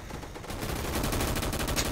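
Rapid automatic gunfire rattles continuously in the Roblox shooter Gunfight Arena, loud and close, with no talking.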